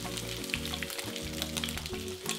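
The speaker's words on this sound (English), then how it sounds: "we'll fry up this turkey as soon as the eggs are done" Eggs sizzle steadily in a hot frying pan, a close, continuous crackle with bright spattering pops throughout.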